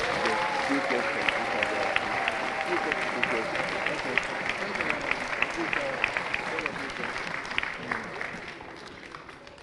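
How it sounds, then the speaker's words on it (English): A big round of applause rises from the audience at a town-hall question session in Charlotte, a dense crowd clapping continuously for nearly ten seconds and gradually tapering, with some voices and cheers mixed in. "Ladies and gentlemen, can I please hear another big hand of applause?"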